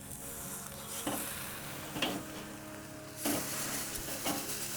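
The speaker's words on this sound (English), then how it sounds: "Get that sizzle going, and that is hot right there." Steaks sear over direct charcoal heat on a kettle grill, giving a steady, quiet sizzle with a few soft scrapes or taps as the meat is moved.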